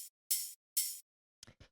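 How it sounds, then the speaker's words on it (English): A clean, bright hi-hat from a minimal techno track, with two crisp sustained hits that each ring briefly before cutting off sharply. A pair of short, softer percussive ticks follows near the end. "this hi-hat, which sounds like this"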